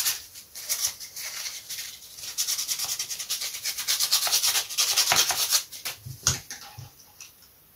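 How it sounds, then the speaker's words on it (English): Rhythmic scratchy rubbing strokes of sandpaper worked back and forth by hand on a wooden Sopwith Triplane model part come close up in uneven bursts that speed up and then trail off. "I'm just going to give that a bit of a sanding"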